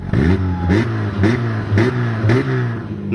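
A classic car's engine revving repeatedly, loud and close, with several throttle blips rising and falling in a regular pattern over a rough idle, no voices.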